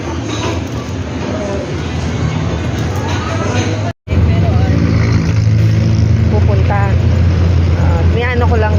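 A motor tricycle rumbles steadily throughout the ride, its engine noise loud and continuous with a brief cut near the middle, while people chat over it.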